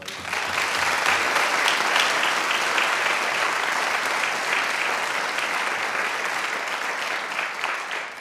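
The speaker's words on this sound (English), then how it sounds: "Big round of applause for the boys." Sustained applause from a concert audience for a boys' pipe band, steady and dense clapping filling the whole stretch without pause.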